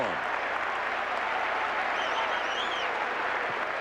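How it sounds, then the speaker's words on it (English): Fenway Park crowd cheering and clapping during an ALDS playoff game between Oakland and Boston, a dense, loud, sustained roar of applause with occasional whistles rising above it. "Now Ramirez helping lead the cheers from first base"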